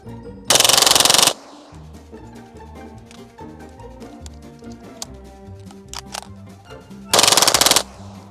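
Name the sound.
Kriss Vector with forced reset trigger firing rapidly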